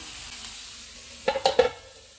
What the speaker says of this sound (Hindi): इस साइड से भी चिकन को पकते हुए 3 मिनट हो चुके हैं।